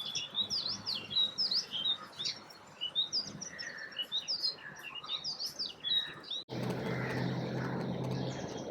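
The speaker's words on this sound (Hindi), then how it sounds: "आप सुन सकते हैं चारों तरफ चिड़ियाओं की आवाज़ें हैं।" Many small birds, house sparrows, chirp and tweet in quick overlapping morning calls, fairly close, over a soft outdoor background that turns into a louder, steady rushing noise near the end.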